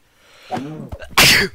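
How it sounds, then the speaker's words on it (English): A single close, loud sneeze bursts out sharply after a few seconds of murmured vocal sounds and breathy noise. "I sneezed while I was killing it"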